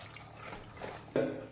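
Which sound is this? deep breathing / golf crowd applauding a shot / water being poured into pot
water being poured into pot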